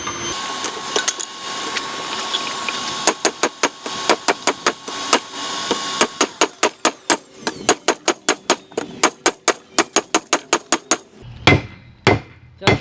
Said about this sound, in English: Next one I'm going to get the bigger hammer.